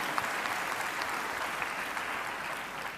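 Steady applause from a church congregation at a Telugu Christian sermon, a dense continuous patter of many hands clapping at even loudness throughout, fairly near with no talk over it.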